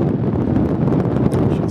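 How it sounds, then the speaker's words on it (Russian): Steady wind roars under a bridge in Croatia and buffets the microphone, a constant low rushing noise without pauses or voices. "Вниз ветер дует."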